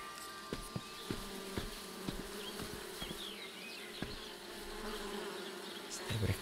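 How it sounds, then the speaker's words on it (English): Bees buzz steadily in the first-person puzzle game Viewfinder, a close insect drone holding throughout with faint clicks and thumps underneath. "Stay away from the bees."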